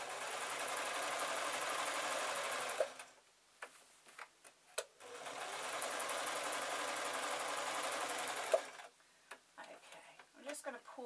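A sewing machine stitches baby or toddler shorts in two steady runs of close, even whirring, each followed by short ticks and clicks as the fabric is adjusted.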